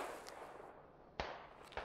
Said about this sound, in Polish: Słychać wybuchy. Wybuchy są wszędzie naokoło.